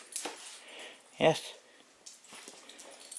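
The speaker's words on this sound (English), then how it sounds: "See, the big whiny dog." A big dog whines in a basement workshop: a thin, high whimper sits among rustling and movement, and a single brief spoken word is also heard.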